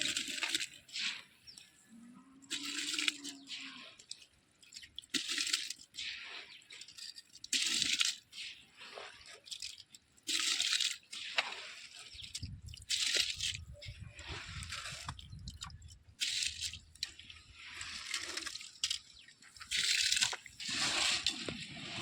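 Tomato rice simmers in a pot over an outdoor wood fire beside a canal, the spiced water already at a boil when the rice went in; soft bubbling, sloshing and wet pops come in uneven bursts, fuller and lower in the second half.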